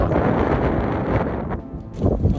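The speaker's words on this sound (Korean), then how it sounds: "바람이 엄청 불어가지고 촬영하기 힘드네요" Strong wind buffeting the microphone outdoors at an eerie abandoned building in Jeju, a loud continuous rumbling roar with gusty swells.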